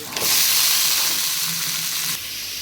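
Cut beetroot and fenugreek frying in hot oil with onions in a clay pot, a steady close bright sizzle with a short burst as the beetroot goes in, then easing slightly near the end.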